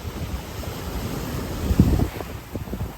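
Sea waves washing onto a Mersin beach, a steady low surf roar with wind buffeting the microphone and a brief louder surge of water near the middle.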